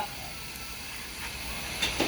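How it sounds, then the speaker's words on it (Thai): Steady broadband hiss and bubbling roar of water boiling vigorously in a pot for Thai sour fish soup, continuous and close, with a couple of brief clinks near the end. "น้ำเดือดแล้วครับ"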